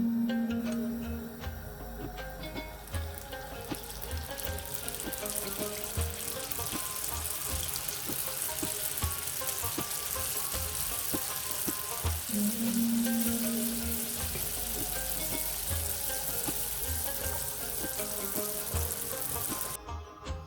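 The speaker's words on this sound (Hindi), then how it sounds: "इसी तरह से आप सारे इनको रोल को फ्राई कर लें।" Chimichanga rolls frying in hot oil, giving a steady close sizzle and crackle that continues through the whole stretch, with faint clinks and hums in the background.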